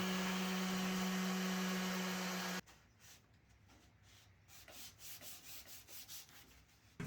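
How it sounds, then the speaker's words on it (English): Steady hiss of noise gives way to soft, rhythmic rubbing strokes of hand sanding on wood, close and fairly quiet. "so I had to hand sand the whole thing"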